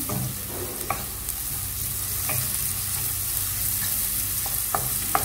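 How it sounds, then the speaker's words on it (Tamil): Onion with salt sautés in a pan, a continuous close sizzle broken by several sharp clicks and scrapes from stirring at irregular intervals, with no talking. "உப்பு போட்டால் சீக்கிரம் வெங்காயம் வதங்கிடும்"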